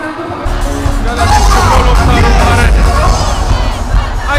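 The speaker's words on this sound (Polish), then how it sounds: "Brawa, sami dla siebie." Large arena audience at a disco polo gala in Kraków's Tauron Arena roaring and cheering after a brief quiet start, a dense, loud crowd hubbub that stays steady to the end.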